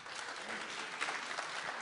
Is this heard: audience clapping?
yes